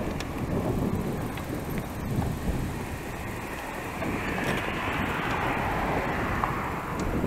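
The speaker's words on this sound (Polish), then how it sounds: "No ale to jest burza." Heavy, continuous rumbling of a thunderstorm with a dense, steady wash of downpour rain, loud and close throughout.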